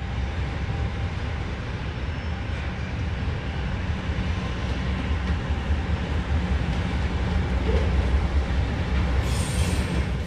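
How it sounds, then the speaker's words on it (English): A northbound Seaboard Coast Line freight train passes near West Palm Beach, Florida, in 1970. A steady, loud rumble of rolling cars and wheels continues throughout, with occasional squeals from the wheels and no talking. "we catch a northbound freight train."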